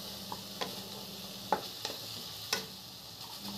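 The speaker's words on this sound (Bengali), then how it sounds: "এবার এটাকে ভালোভাবে ঝুড়ো ঝুড়ো করে ভেজে নেব" Minced chicken with turmeric and chicken masala fries in a pan with a soft, steady sizzle, broken by a few clicks and scrapes of stirring; quiet and close, with no talk.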